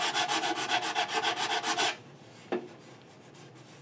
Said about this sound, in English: I've been filing it with a file to get it all flat because it was uneven this way.